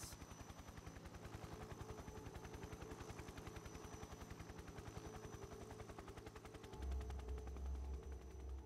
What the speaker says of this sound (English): Helicopter's still there.